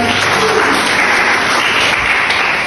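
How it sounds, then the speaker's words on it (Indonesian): A church congregation applauds steadily during a worship service, a dense wash of clapping holding at an even, loud level throughout with no voices over it. "Kita kasih tepuk tangan dulu buat Tuhan kita."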